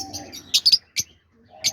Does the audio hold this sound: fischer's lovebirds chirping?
yes